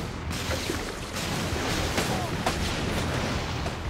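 Rapid gunfire striking the player in Infamous 2 forms a dense, continuous barrage of loud cracks and rumbling blasts with no pause.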